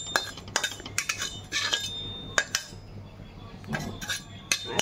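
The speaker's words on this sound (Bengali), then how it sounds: "এখানে কড়াইতে এবার জিরাটা ভেজে নিচ্ছি, সাদা জিরা।" White cumin seeds fry in a wok, with a metal spatula clinking and scraping against the pan in irregular bursts over a low steady background hiss, close and fairly quiet, with no talking.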